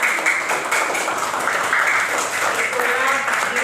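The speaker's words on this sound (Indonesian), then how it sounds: "tepuk tangan" A classroom of students claps after group presentations on plant parts, a steady round of applause with voices talking over it throughout.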